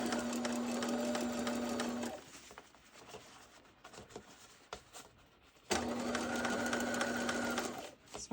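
A sewing machine stitches a small seam around a curve on a baby boy's burial outfit, running in two steady bursts with a quieter pause between them.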